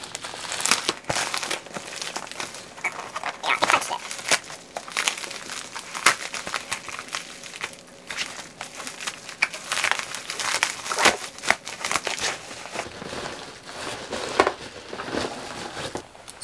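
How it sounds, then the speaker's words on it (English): A sticky plastic Ipsy mailer envelope is pulled open up close, giving irregular crinkling, crackling and rustling throughout, with sharper crackles and tearing sounds in bursts. "These Ipsy envelopes are always so sticky."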